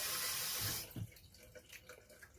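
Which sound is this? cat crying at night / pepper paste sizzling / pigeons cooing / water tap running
water tap running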